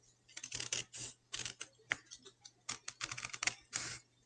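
Scissors snip through paper to cut out a paper fish, with short crisp cuts arriving in quick irregular bursts, close but quiet.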